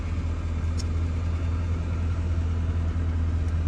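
A 2019 Chevrolet L5P Duramax diesel pickup idling right after startup, following a MAP sensor install: a steady, close, low rumbling drone that holds even throughout, with no voices.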